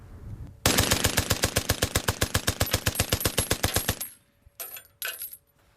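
Machine gun at the Battle of the Somme firing a long burst of evenly spaced sharp shots at about 500 rounds a minute, loud and close, followed by a few short bursts with mechanical clicks, no speech.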